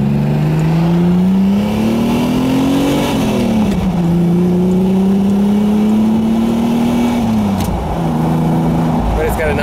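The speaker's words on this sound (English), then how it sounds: "It's got a nice rumble to it." Engine of a convertible Ferrari Testarossa kit car conversion idling and revving, a loud steady rumble with rising and falling engine pitch, heard up close with no talk over it.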